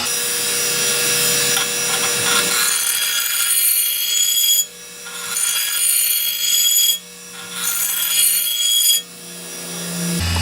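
File drawn across a Snapper Pro SW30 mower blade being sharpened, a close, harsh rasping scrape in several long strokes separated by brief pauses.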